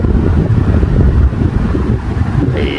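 A DC electric fan run through a speed controller spins with a loud, steady airy whoosh and low rumble that holds even and close for the whole stretch.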